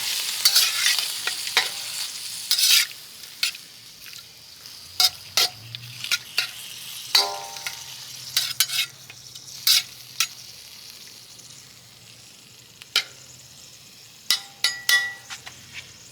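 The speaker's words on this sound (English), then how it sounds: "Stir it up a little bit" Kielbasa fries in a pan for haluski and is stirred with a utensil, giving repeated scraping clatters and knocks over a steady low sizzle, close and with no talking.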